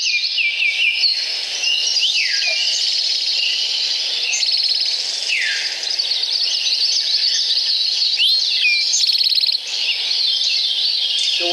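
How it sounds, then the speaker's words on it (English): Many birds sing and call at once in a morning woodland, a steady overlapping chorus of chirps, trills and whistled phrases with no single song standing out, accompanied by a faint insect-like buzz. "what you're hearing is a variety of songs, and you're kind of taking it all in and not focusing on any one particular bird song"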